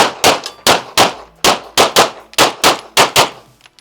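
Pistol shots at a local USPSA match, about eleven sharp cracks each followed by a ringing clang from steel targets, fired in a fast, slightly uneven string at close range, then a couple of faint clicks.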